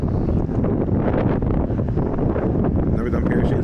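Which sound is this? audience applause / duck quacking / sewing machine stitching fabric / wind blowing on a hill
wind blowing on a hill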